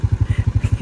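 Motorcycle engine idling or riding close by, a loud rapid pulsing thump in an even rhythm, brief.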